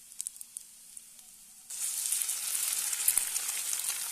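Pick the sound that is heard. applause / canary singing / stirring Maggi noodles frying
stirring Maggi noodles frying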